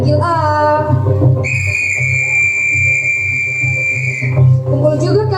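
A whistle blown at a scout camp during an outdoor skit, one long, steady, piercing blast held for about three seconds, with voices and crowd noise before and after.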